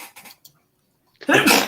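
One sharp sneeze lands close and loud near the end, coming after a short quiet pause and a few faint breaths.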